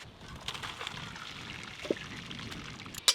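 Boiled chowmein noodles are poured out to drain, giving a brief soft splash and trickle of water with a couple of sharp clinks near the end.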